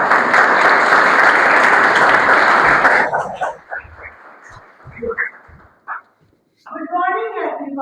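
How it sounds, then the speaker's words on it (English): An audience at a Toastmasters club meeting gives dense, loud applause for about three seconds, then it cuts off and scattered talk and a few claps follow. "with a huge round of applause, I'd like to call upon stage Toastmaster Aishwarya"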